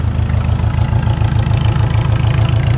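A 1981 Subaru EA engine idles steadily right after start-up, a loud, close, even low throb with a regular pulsing rhythm and no voices.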